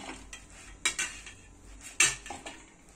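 A metal spoon stirs a sticky puffed-rice panchkhadya mixture in a pan with the gas turned off, giving several sharp, close scrapes and clinks against the metal in an irregular rhythm.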